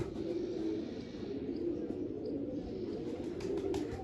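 A flock of roughly fifty pigeons cooing without a break, with overlapping low burbling coos at moderate loudness and a few faint chirps near the end.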